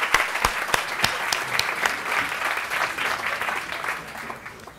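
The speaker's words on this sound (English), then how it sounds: "Let's give them a round of applause." Audience applause fills a hall during a Cornell University president's talk, a dense, steady burst of clapping lasting about five seconds before tapering slightly at the end.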